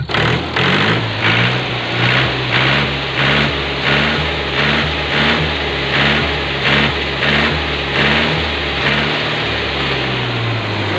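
Freshly overhauled Mahindra 475 diesel tractor engine running close by with a loud, steady, throbbing beat, no voices.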